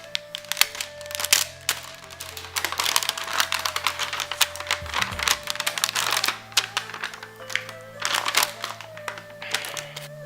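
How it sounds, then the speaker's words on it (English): Crinkly plastic packaging rustles and crackles in quick bursts as an Nvidia Titan RTX graphics card is pulled out of it, with a low steady hum underneath and no talking. "Take it out of the plastic."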